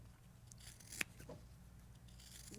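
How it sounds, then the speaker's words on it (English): Kai scissors snipping through rag quilt fabric, giving a few quiet, close cuts with one sharper snip partway through, set against a steady low room hum and no speech. "Now I'll cut some with the Kai."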